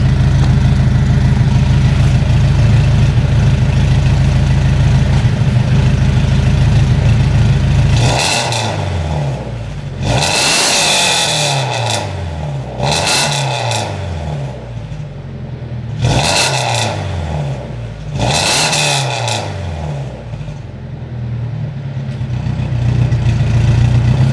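Scion FR-S with a full aftermarket exhaust, loud and close: a low, rumbling idle for several seconds, then four or five sharp revs that climb and fall back, each separated by a brief return to idle.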